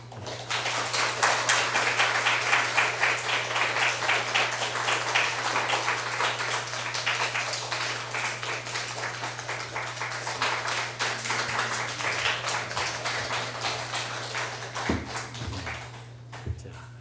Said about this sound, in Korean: 그런 의미로 큰 박수 하겠습니다